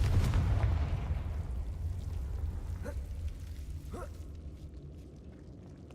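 Confringo fire spell from Hogwarts Legacy bursting in a loud, deep explosive blast that rumbles and slowly fades, with a couple of faint rising whooshes afterward.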